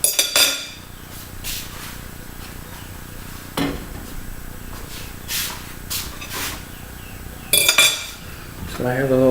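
Metal fork clinks and scrapes against a pot while testing boiling linguine, a few sharp clatters at the start, middle and end over steady hissing steam in a kitchen.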